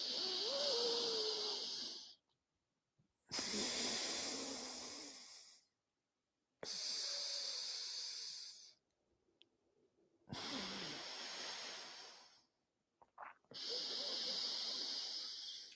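Yoga alternate nostril breathing: long, loud, hissing breaths drawn and released through the nose, coming in five drawn-out strokes separated by silent pauses, close and alone.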